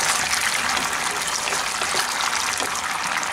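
Water is poured from a rinsed sauce bowl into chilli paneer sauce, a steady close splashing gush that runs continuously throughout with no talking.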